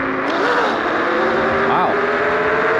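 A Kaabo Wolf King GT Pro electric scooter accelerating on a road in dual-motor mode, a whining electric motor tone rising and dipping twice over constant wind noise, close to the rider.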